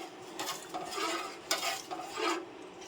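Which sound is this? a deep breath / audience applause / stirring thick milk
stirring thick milk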